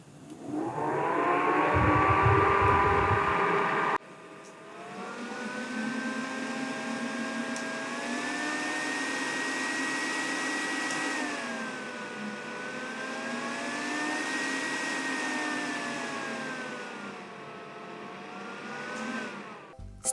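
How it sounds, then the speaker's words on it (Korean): A Daiso handheld rechargeable fan with four speed settings runs with a loud, steady motor whine, starting with a harsher burst of buzz for a few seconds before settling into a continuous tonal hum that wavers slightly in pitch. "그리고 선풍기 치고는 소음이 큰 편이에요."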